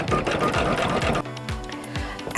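A sewing machine stitches down a row of chenille-style applique fabric, running in a steady rapid whir with a change in pace partway through, close and continuous with no talking.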